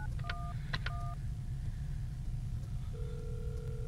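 Telephone dialing tones from a phone in an SCP horror video game, a few quick touch-tone beeps followed by a steady line tone, heard over a low constant rumble with no talking.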